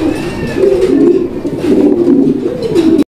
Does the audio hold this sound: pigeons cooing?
yes